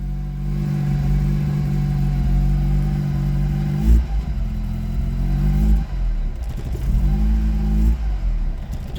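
An Austin Princess car under restoration, running on poor fuel, idles with a low rumble, then its engine is revved in three short, rough bursts, close and loud, with no talk.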